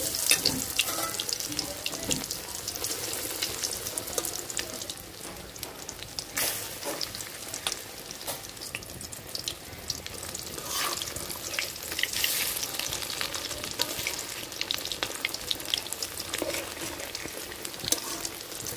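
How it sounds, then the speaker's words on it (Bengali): Two pieces of katla fish sizzle and crackle in hot oil in a pan, a dense, steady frying hiss with sharper pops and spatters scattered throughout, close and fairly loud. "এই যে মাছ দিয়ে দিতেছি গরম তেলে"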